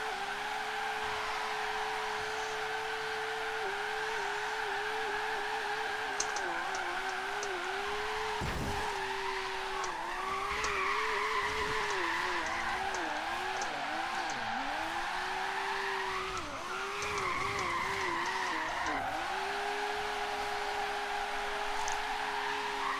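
A car drifting around a track for lap after lap: a sustained engine drone that wavers as the throttle shifts, layered with long continuous tire squeal, and a sharp skid burst near the middle, close and loud with no talking.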